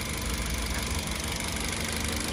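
A 2017 Mitsubishi Xpander Sport engine idles close by with the hood open, giving a steady, even hum with a faint mechanical ticking and no voices over it.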